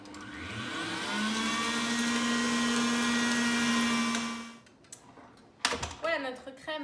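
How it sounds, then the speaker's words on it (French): Kenwood Cooking Chef stand mixer whipping plain cream, a steady high whirring motor drone that runs for several seconds, then cuts off, followed by brief clattering and a voice speaking. "je laisse d'abord tourner au départ la crème nature"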